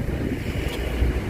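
Low engine rumble and rushing wind over the sea, a steady water taxi ride with buffeting wind noise on the microphone.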